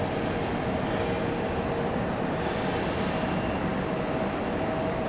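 A Sun Country Airlines airliner at Raleigh-Durham International Airport makes a steady, moderately distant engine rumble and roar that holds evenly through the whole stretch.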